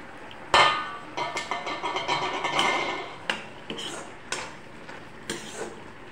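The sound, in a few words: lid opened and jackfruit seed and potato curry stirred in pot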